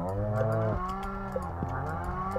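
Several cows moo in the Stardew Valley farm game, long drawn-out lowing calls overlapping one another, loud and close, with no talking over them.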